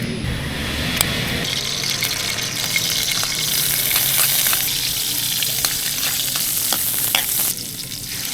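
Patola with misua, onion, garlic and canned sardines frying in a pan, a loud, steady sizzle with stirring clatter and scraping throughout, close and without talk.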